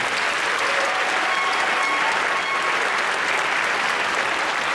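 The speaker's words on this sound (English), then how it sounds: "Let's round of applause for everyone." A graduation crowd of students, families and supporters applauds steadily and fairly loudly throughout, a dense even wash of clapping with no break.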